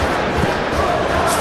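A stadium crowd in the football video game PES 21 roars in a steady, loud wash of cheering and noise throughout, with no single voice standing out.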